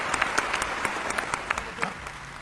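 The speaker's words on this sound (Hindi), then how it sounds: "अगली पंक्ति पर अगर महसूस हो जाए कि मैंने कुछ अच्छी बात कह दी है तो आपकी तालियां मिले" An audience at a talk breaks into brief, lively applause, dense clapping with a few sharper claps standing out for a couple of seconds.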